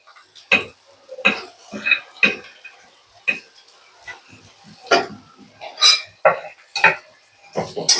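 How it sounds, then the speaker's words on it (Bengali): Chopped carrot goes into a pan with potatoes while making vegetarian ukma, giving a series of sharp metallic clinks and scrapes of a spoon against cookware, spaced irregularly and close by, with no talking. "গাজর কুচিটাও দিয়ে দেব"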